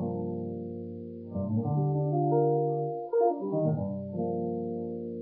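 Electric guitar plays sustained sweep-picked jazz chords, notes cascading and ringing together with effects, steady and moderately loud with no voice.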